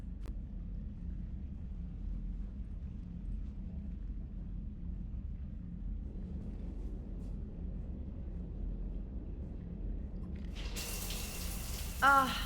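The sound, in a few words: shower water running, from video game Mass Effect 3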